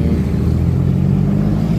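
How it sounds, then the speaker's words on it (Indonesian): Midday traffic of motorcycles and cars crowding Jalan Perintis Kemerdekaan, a steady dense rumble of engines heard close and loud from a moving vehicle, with no voices. "baik motor maupun mobil sudah mulai memadati Jalan Perintis Kemerdekaan"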